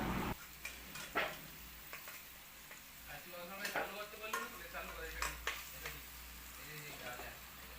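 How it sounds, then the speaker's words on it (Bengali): Pieces of green jackfruit sizzle softly in oil in a pan, stirred with repeated scraping and clinking strokes over a steady low frying hiss, fairly close and moderately quiet. "দেখো এঁচোড়টাকে আমি ভালো করে ভেজে নিচ্ছি।"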